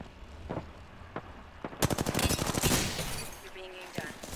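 Rapid automatic gunfire in the shooter Apex Legends, a few isolated shots followed by a sustained burst of fast repeated rounds, fairly close, then scattered single shots with faint voices underneath.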